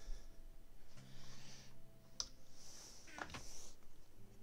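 A cat walks across a computer keyboard, producing a few faint, scattered key clicks and soft taps in a quiet room, with low background hum.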